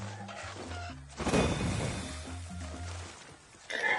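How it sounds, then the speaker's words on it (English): A chicken in the video game Far Cry 6 clucks in a series of short pitched calls, with a noisy impact burst partway through. "Chicken attack Baycock."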